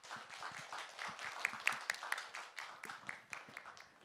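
Audience applause after a high school student's presentation on a marine-environment product idea, a dense steady patter of many hands clapping at moderate level with no voices over it.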